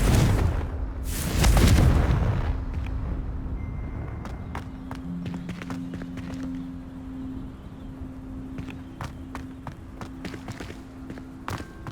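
A Confringo blasting spell in the Hogwarts Legacy video game erupts in one loud, deep booming explosion early on, then fades into a low rumble with scattered small crackles and a faint steady hum.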